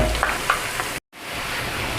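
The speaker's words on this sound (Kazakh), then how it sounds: "Қазір сәбізімді саламын." Grated carrots hit hot oil with frying onions in a pan for meatballs in gravy, giving a steady crackling sizzle that drops out briefly before resuming just as strongly.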